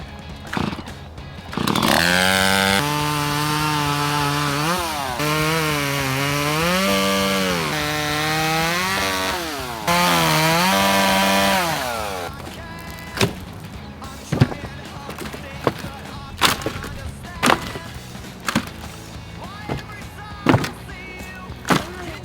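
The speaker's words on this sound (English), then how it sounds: "But I got the chainsaw over and we've got a few big logs lying around the yard." A chainsaw cutting big logs in a yard revs loudly up and down in long bursts, then falls quiet, leaving scattered sharp knocks and clatter nearby.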